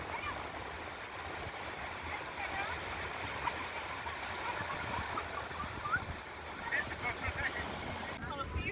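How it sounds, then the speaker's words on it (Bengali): Strong, stormy wind blows along the sea shore at Puri beach, a steady, fairly faint broadband rush with low rumbling gusts and the wash of surf behind. "সমুদ্রের ধারে এই ঝড়ের মতো হাওয়া বইছে"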